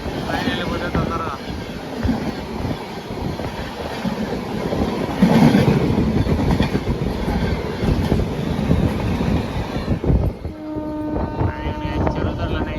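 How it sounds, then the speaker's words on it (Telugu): A passing train rolls through countryside of ponds and coconut groves on the Godavari route, a loud close rumble with rhythmic wheel clatter and a long horn-like tone before the noise thins near the end. "ఇంకా ట్రైన్ వచ్చాడు గైస్"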